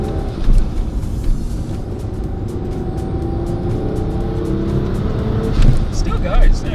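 Turbocharged V6 Toyota Camry pulling away gently with the exhaust closed and boost at minimum, a subdued, steady engine drone and road noise from inside the cabin, with someone talking over it.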